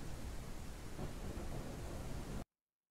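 Thunderclaps roll with heavy rain in the horror video game Mirror Forge demo, a dense, loud storm rumble filling the scene before cutting off abruptly to silence.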